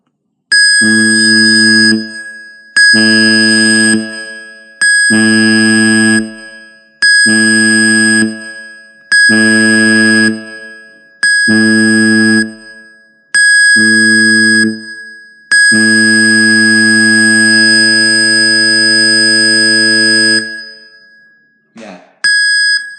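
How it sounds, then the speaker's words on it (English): A ship's muster drill alarm: a loud, high-pitched blare in seven short bursts followed by one long sustained blast, with a voice speaking briefly at the end. "Sometimes you'll just hear the alarm itself."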